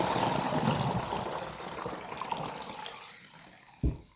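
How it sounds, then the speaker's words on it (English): Water runs steadily from a tap to top up a homemade spray mixture, a continuous close splashing flow that fades out and ends with a single soft knock. "And then I'll top it up with water"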